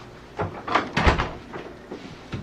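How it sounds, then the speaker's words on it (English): A door is pushed shut in an interview room, a few dull knocks and thumps at close range, the loudest near the middle, with faint rustling around them. "Hill, you mind scooting over just a little bit so we can shut this door?"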